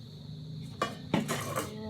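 A metal cooking pot is handled in a home kitchen, giving a couple of clanks and clinks against other cookware, close and moderately loud.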